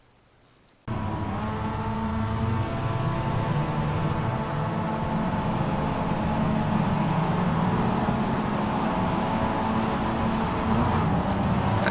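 Mazda MX5 race cars launch from the start at Okayama in a racing game, their engines jumping from near silence into a loud, sustained, droning roar of several cars revving together.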